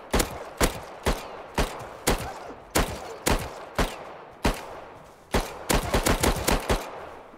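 Rapid gunfire in the survival game Rust, a string of sharp, loud shots spaced roughly half a second apart, then a quicker burst of several close-together rounds near the end, with no talking.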